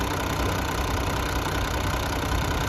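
An old Massey Ferguson 1135 tractor engine, fitted with a new radiator and thermostat, idles steadily up close with a continuous loud knocking rumble and no talk.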